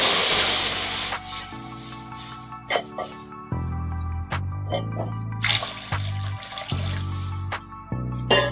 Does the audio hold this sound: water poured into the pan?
yes